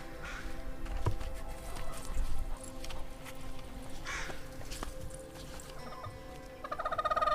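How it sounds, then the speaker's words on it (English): Chickens and hens inside a busy chicken coop, with overlapping clucks and squawks, a few sharp calls and rustling, heard close at moderate volume. "Welcome to the chaos around here that is the chicken coop."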